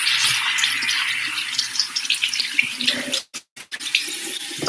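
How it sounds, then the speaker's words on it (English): Hands washed under a running bathroom tap, a close, steady splash of water that breaks up into uneven splashes and brief pauses near the end, no talking. "Just wash my hands"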